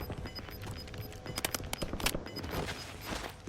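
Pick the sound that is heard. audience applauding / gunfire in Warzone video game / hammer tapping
gunfire in Warzone video game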